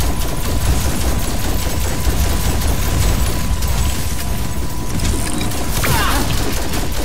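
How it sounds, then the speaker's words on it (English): Dense, continuous gunfire from a video game, rapid automatic bursts filling the whole stretch at steady loudness with mechanical clatter, close and without talking. "She's shooting at me."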